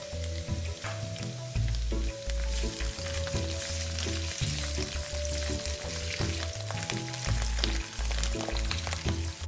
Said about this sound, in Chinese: 再将切丁后的香菇倒入爆香